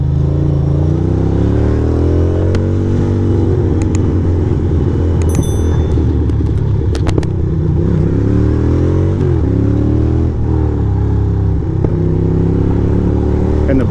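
A Ducati motorcycle engine revs loud and close on a city street, with a continuous throaty roar that rises and falls. There are a few sharp crackles that could be backfires. No one speaks.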